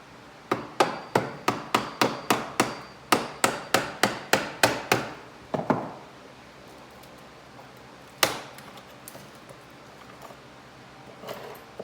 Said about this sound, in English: get something behind the parting bead and use it as leverage to pry it out